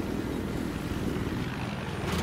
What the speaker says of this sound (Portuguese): Helicóptero inimigo de transporte